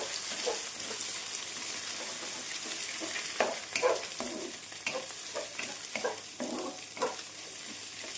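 Street-style chicken noodles fry in a pan with a steady crackling sizzle, while rhythmic stirring strokes scrape and toss through them every second or so.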